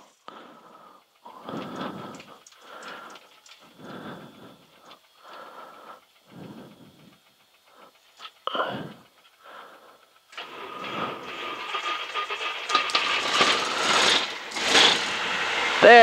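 A cold Piper Tomahawk PA38 aircraft engine cranks in a series of separate, labored starter bursts with pauses between them. It then catches and roars up to a loud, steady, buzzing run, rising toward the end.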